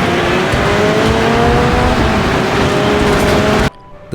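Race cars roaring together during a race in Next Car Game, a loud, dense engine drone with rising revs and overlapping motors that cuts off abruptly near the end.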